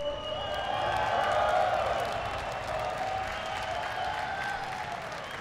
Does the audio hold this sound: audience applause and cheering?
yes